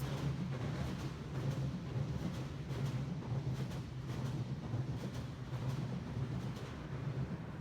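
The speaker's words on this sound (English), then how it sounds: "you just see how the Jubilee Line trains enter West Ham Garage and the trains coming from Stratford" London Underground Jubilee Line trains rumble at the West Ham depot, a continuous low, steady rolling drone with faint rhythmic wheel clatter, no talking.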